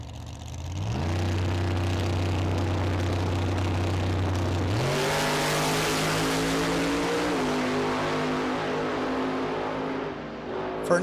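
Two drag cars, a 1981 Mercury Capri and a 1991 Mustang, race down the strip with loud, steady engine roar. The pitch holds at launch then climbs through gear changes as they pull away.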